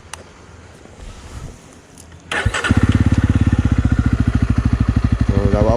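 A Jawa 42 2.1 motorcycle with its dB killer removed starts up after some wind-blown handling noise, then settles into a loud, close, lumpy idle with rapid exhaust pulses.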